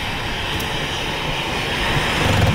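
Steam vents on a steaming island shore of Yellowstone Lake, heard from a boat: a steady, broad, low rumbling roar that holds level throughout with no talk.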